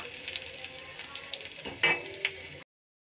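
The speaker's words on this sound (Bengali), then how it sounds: "পর আমি এই বাঁধাকপিটা দিয়ে দিলাম, মিক্স করে নিলাম" Cabbage is stirred and fried in a pan for a cauliflower paratha filling, a steady sizzle with a few sharp scraping clinks of the utensil against the pan.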